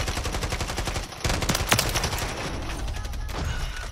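Rapid bursts of automatic gunfire in an online shooter game, dense and continuous with a brief gap before resuming, loud and close.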